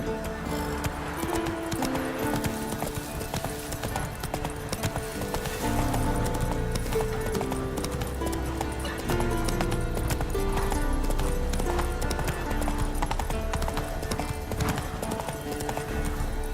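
Roach, a horse in The Witcher video game, gallops with a steady, rhythmic clip-clop of hooves under a bed of game music, close and continuous throughout.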